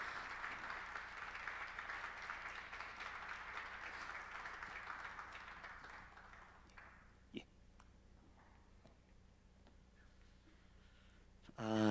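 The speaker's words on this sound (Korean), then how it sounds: "우리 큰 박수로 감사의 마음을 표하도록 하겠습니다." A church congregation at a New Year's Eve service applauds a retiring elder, a soft, steady patter of clapping that thins out after about seven seconds, leaving a faint room with a few stray claps and knocks.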